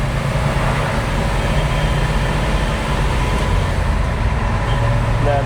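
A 1957 Chevy Bel Air driving on the road, its engine a steady, continuous drone with road and wind noise throughout, no clear rev spike from the gear change standing out.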